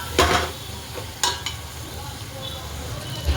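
Cooked bottle gourd is stirred into dal in a pan, with a few scraping spoon knocks against the metal over a soft sizzle, close and clear.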